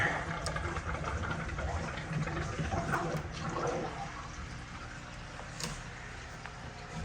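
Aquarium canister filter pump running with water sucked in and flowing back out, a steady gurgling, rushing water sound with a low motor hum, fairly close and continuous, easing slightly in the second half.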